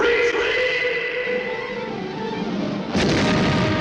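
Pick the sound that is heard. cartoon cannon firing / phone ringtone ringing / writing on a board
cartoon cannon firing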